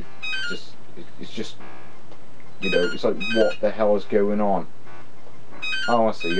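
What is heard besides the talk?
telephone ringing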